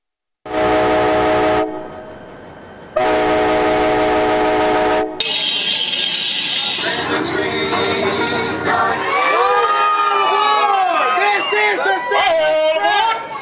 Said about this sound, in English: This train takes off from Boulder City each evening